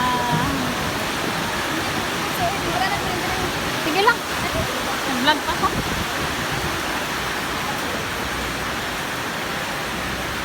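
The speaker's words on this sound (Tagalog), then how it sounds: "Super lakas ng ulan." Steady broadband roar of heavy rain in Davao City, Philippines, fills the clip, with a person speaking briefly over it near the middle.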